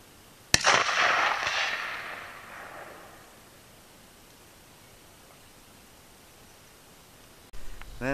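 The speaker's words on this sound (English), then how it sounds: "I'm going to try a quick kneeling position shot." A single sharp rifle report from a kneeling position, firing Tula 124 grain hollow point ammunition, with a long diffuse echo decaying over about two seconds, then quiet until a brief thump near the end.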